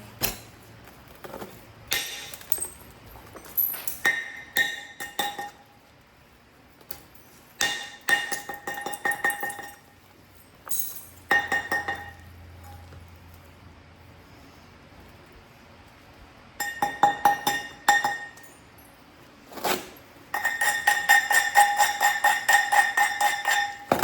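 A hammer strikes a large slab of gold jasper rock, giving sharp ringing clinks in irregular bursts, some rapid flurries and some single blows, separated by quiet pauses.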